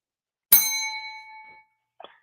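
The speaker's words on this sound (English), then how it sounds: "Make sure you trigger that bell." A bright notification bell dings once, ringing out clearly with a long fading shimmer, then a faint short double tick follows as it dies away.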